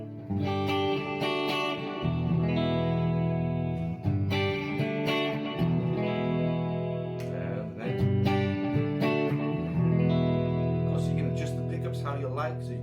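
A Gibson Les Paul or PRS DGT electric guitar, untuned, played through distortion, rings out in loud sustained chords and riffs, with chord changes every couple of seconds and bright overdriven harmonics.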